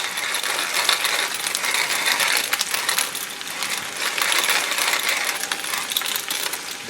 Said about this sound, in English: I'll put some pepper on there.